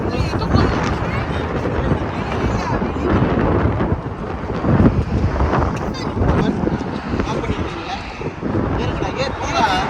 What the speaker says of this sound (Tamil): ஆனா எவ்வளவு காத்து அடிக்குதுன்னா oh my goodness